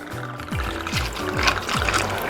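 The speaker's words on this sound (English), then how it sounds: "Now I free pour." Peach schnapps free-poured from a bottle for a Fuzzy Navel cocktail gurgles in a steady stream, with repeated glugging pulses rising in pitch as the glass fills, close and clear.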